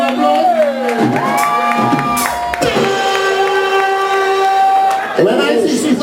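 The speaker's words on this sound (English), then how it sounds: "So let me see a round of applause." Crowd at a band launch cheering and whooping with shouts and tonal yells over the noise, loud and close, breaking off briefly near the middle before surging again.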